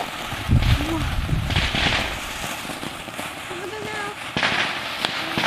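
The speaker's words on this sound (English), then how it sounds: "We have a big bag of fountains." A big bag of firework fountains going off outdoors, a hissing, crackling spray with bursts and wind noise, while people talk and shout nearby.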